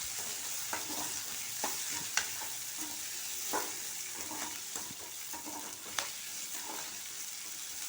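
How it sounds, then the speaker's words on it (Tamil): Onions and green chillies sauté in a pan for rava upma, a steady close sizzle broken by scattered scrapes and taps of the stirring spoon, with no talking. "வெங்காயத்தை நல்லா வதக்கிக்கணும்."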